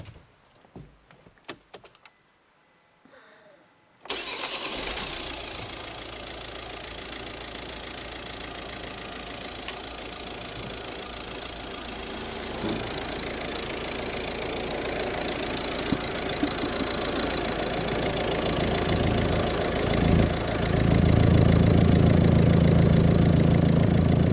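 A Volvo V50 1.6 diesel engine cranks and catches after a quiet start, then settles into a steady, close idle with a low rumble and faint mechanical clatter.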